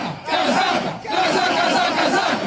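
Vasco da Gama football supporters at a Sunday protest chant together in a loud, rhythmic crowd roar, two swelling phrases in a row, sustained and close.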